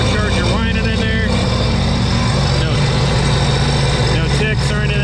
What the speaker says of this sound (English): You hear the supercharger whining in there.